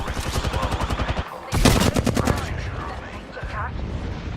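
Rapid gunfire bursts in a video game shooter, a steady rattling volley for over a second, then a loud blast and ongoing clattering shots and effects, with some voice mixed in.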